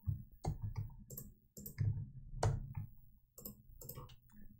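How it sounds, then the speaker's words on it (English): Keyboard keys and a mouse clicking close to a gaming microphone during a Kirby's Dream Land 2 race, sharp irregular clusters of clacks and taps with short gaps between bursts. "Also, Sunkir, you've got like massive keyboard, mouse stuff"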